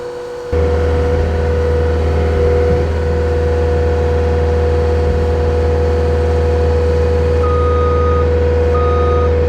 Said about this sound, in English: we're gonna try to push it in line real quick with the skid steer